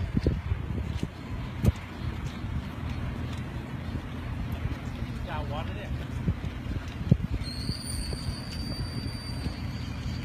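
Strong tornado storm wind roars as low, continuous rumbling buffeting across the microphone during a storm in Nakhon Sawan, Thailand, with a few sharp knocks, brief voices and a faint high whine near the end.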